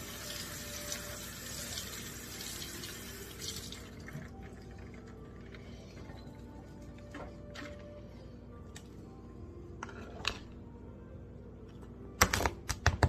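Running tap water rinses fat off meat for gumbo, splashing steadily for about four seconds before stopping, followed by quiet drips and small kitchen clatters, with a sharp burst of knocks at the end.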